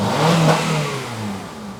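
A Honda CR-V engine with a major power loss fault and a P0507 code is revved hard once, rising to a rough roaring peak and then easing off into a lower fading drone, loud and close.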